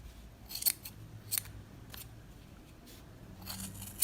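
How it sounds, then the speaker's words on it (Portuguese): Scissors snip off leftover pieces of old jeans denim near a seam, making several distinct crisp cuts spaced apart over quiet background, close and without speech. "Agora vamos cortar esses pedacinhos aqui que sobrou"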